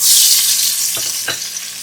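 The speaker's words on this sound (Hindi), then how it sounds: "अब इसके अंदर प्याज शामिल करेंगे।" Onions tossed into hot oil with whole spices and green chili for a pressure-cooker mutton biryani, a loud steady sizzle with a couple of stirring knocks, no talking.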